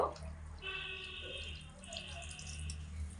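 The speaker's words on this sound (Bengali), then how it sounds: "এবার এর মধ্যে অল্প পরিমাণে জল দিয়ে দেব" A little water is poured into semolina in a hot pan, giving a short close hiss and trickle with faint bubbling, fairly quiet, without talk.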